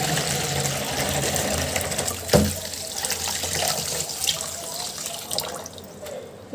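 Tap water runs steadily into a basin as fish is set to soak in a village kitchen, with splashes and a sharper knock partway through.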